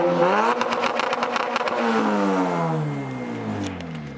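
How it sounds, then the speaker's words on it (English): Turbocharged Honda Civic doing a two-step launch rev: a loud, close engine climbing and holding with rapid crackling pops, then winding down over about four seconds with no talking. "Do a little light two-step for you guys."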